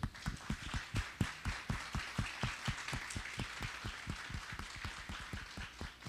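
A literary festival audience claps for an honoured author, Líria Porto, in a rhythmic, fairly sparse unison beat with individual sharp claps standing out, steady and moderately loud throughout.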